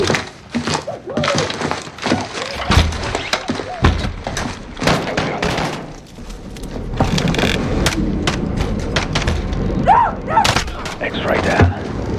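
Shotgun blasts and other gunfire ring out during an SAS raid on a London safe house in a video game, with repeated loud, sharp shots and thuds mixed with radio-style voices talking throughout.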